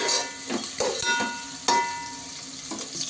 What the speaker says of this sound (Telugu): కట్ చేసి పెట్టుకున్న ఆనియన్స్ ఉల్లిపాయలు అయితే బాగా కలగొచ్చే వరకు ఫ్రై చేసుకోవాలి